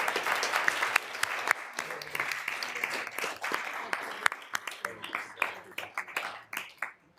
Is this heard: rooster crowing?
no